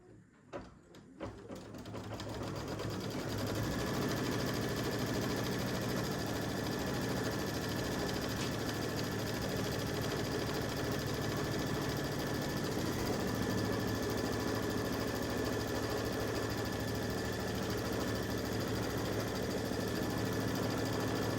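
Embroidery machine stitching a tree outline on an in-the-hoop mug rug, a steady fast mechanical whir that holds evenly after a few starting clicks, close but fairly quiet.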